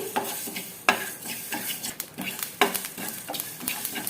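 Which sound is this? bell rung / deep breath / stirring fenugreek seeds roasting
stirring fenugreek seeds roasting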